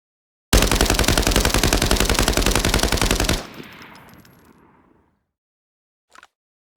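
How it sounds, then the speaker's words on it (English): Full-auto magazine dump from a 5.8×42 rifle in the Arena Breakout Infinite video game at 25 meters: a loud, rapid unbroken string of shots for about three seconds, then a fading echoing tail and two faint clicks. "So again, we're gonna mag dump at 25 meters."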